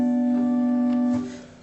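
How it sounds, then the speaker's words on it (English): A pipe organ's stopped diapason stop sounds a single sustained note, steady and clear with a pure, flute-like tone, then fades away in the final half second. No one speaks. "which is a stop diapason, it sounds like this"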